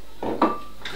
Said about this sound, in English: So in goes the baby pasta.